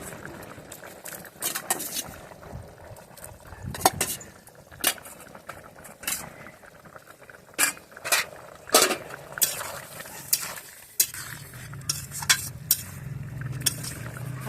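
Fried shrimp go into a simmering yogurt jackfruit curry in a pot, with bubbling and intermittent clinks and scrapes of a spoon stirring against the metal, close by and fairly quiet, with occasional voices.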